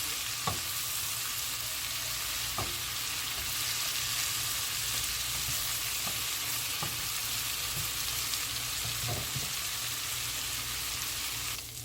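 Sausages sizzle steadily in a frying pan, a close, even hiss of hot fat with a few faint clicks from the pan, and no talking.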